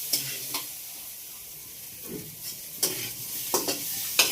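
Potatoes sizzling and frying in very hot oil while being stirred, with a steady hiss broken by several sharp scraping stir strokes spread through the moment, close and moderately loud.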